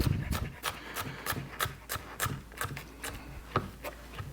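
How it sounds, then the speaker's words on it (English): A knife chopping red onion for pico de gallo on a cutting board, a series of quick, irregular close taps and scrapes with a faint rubbing texture between strokes. "Maybe just run your knife through it one more time just to chop it a little bit smaller."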